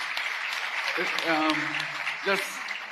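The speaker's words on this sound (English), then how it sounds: "Please give a round of applause to all of our panelists." Audience at an Afreximbank annual meeting session giving panelists a round of applause, moderate clapping heard under voices talking and calling out nearby.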